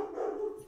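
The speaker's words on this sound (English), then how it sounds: "Sorry about my dogs barking." A single short dog bark or yelp sounds once, faint and somewhat distant, with nothing else around it.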